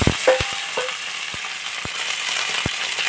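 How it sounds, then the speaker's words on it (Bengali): Eggs frying in a pan, a soft continuous sizzle broken by several sharp clicks and knocks scattered through it, with no voices. "আমি এবার ডিমগুলো ভেজে নেব"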